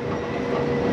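A crowded Las Vegas monorail rolls past with a brief, steady rumble and whir that is close and fairly loud, with no talking.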